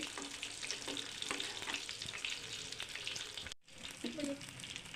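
Fish frying in hot oil, a dense, steady sizzle and crackle close by, briefly cut to silence, then resuming with faint kitchen clatter.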